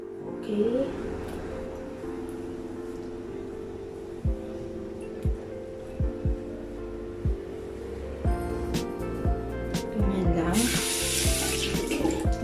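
Lukewarm water running from a bathroom tap, a steady close flow with a low hum and occasional splashes and knocks, growing brighter near the end as the stream hits something.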